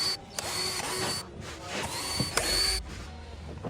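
A power driver whirs in short bursts, backing screws out of the air filter housing on a Land Rover Discovery 3, close and fairly loud with small clicks between runs.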